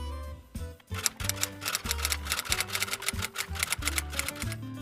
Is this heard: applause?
no